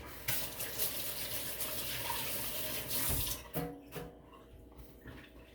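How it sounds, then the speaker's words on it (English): Hands rinsed under a running kitchen tap while making lasagna: a steady rush of water for about three seconds, then the flow cuts off and a few wet clatters and drips follow, close and moderately quiet. "Alright, rinse my hands."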